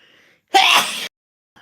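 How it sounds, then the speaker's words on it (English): A single close, loud sneeze bursts out after a brief pause, with quiet room tone before and after it. "I feel a sneeze coming."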